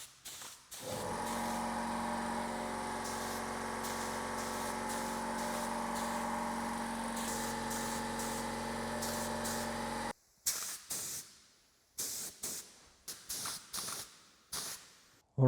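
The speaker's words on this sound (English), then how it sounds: "I'm gonna give it a test spray and get the perfect setup." A spray gun lays primer on a part of a 1995 Honda CR125 with a steady hissing spray that runs for about ten seconds, then a series of short bursts and pauses; no one speaks.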